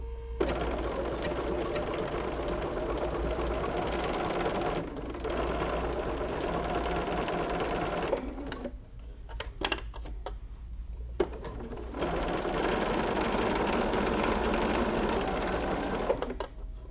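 A sewing machine stitches binding onto a minky and cuddle fabric quilt, running in long steady close-up bursts with brief pauses and a stop near the middle.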